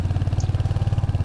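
A motorcycle engine chugs at a steady, rapid idle pulse close by as the bike arrives to be parked at a hotel in Rudraprayag, loud and unbroken.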